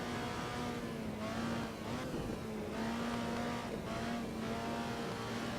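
Alfa Romeo 125 race cars lapping the Nordschleife in Assetto Corsa, engines droning loud and close with steady revs rising and dipping through gear changes as cars battle side by side.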